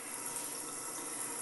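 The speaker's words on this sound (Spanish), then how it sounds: "Miren, se está botando el agua." Water runs steadily out in the 99 Rooms game, a constant hissing rush like a tap left open, moderately loud and unbroken with no voices.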